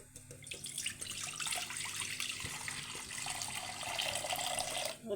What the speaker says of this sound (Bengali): আর একটা কড়া বসিয়ে দিয়েছি এতে আমি দুধ ঢেলে দেবো